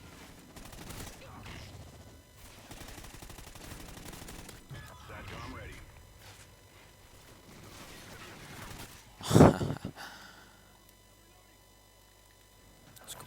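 Gunfire in a first-person shooter video game: a sharp close burst of shots near the end, with quieter scattered game noise and someone talking and sighing earlier.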